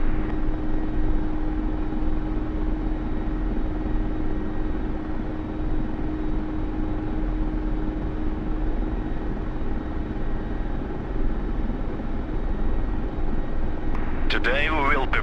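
A Mi-24 Hind helicopter in a VR flight game gives a steady, droning rotor and turbine hum with a constant whine, with a brief burst of speech near the end.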